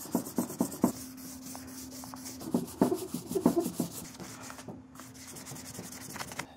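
Hand sanding a fiberglass Ducati race fairing with 400-grit sandpaper: rhythmic back-and-forth rubbing strokes, close and fairly quiet, with a steady low hum underneath and no talk.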